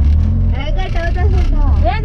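An auto rickshaw engine runs with a steady low rumble throughout, close by, while several people talk over it.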